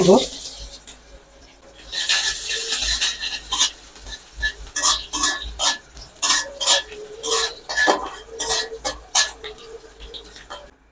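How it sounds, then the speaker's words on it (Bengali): Nigella seeds and chopped onion hitting hot oil in a pan for a radish stir-fry, giving a run of sharp spluttering crackles and metal-on-pan scrapes close by, with a voice heard at moments. "আমি তেলের মধ্যে অল্প কয়টা কালো জিরা দিয়ে দিব অল্প পেঁয়াজ দিয়ে"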